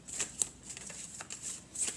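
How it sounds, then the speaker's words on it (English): Tarot cards slap and slide onto a table during a faerie card reading, a few quick crisp flicks close to the listener with no talking. "Let's get a couple more cards down."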